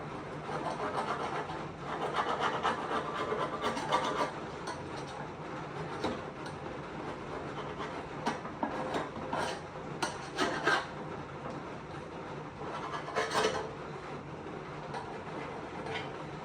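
Old gasket material is scraped off a motor on a Holden HZ ute in a backyard, heard as continuous close rough rasping and scratching strokes at a moderate, uneven rhythm, with no talking.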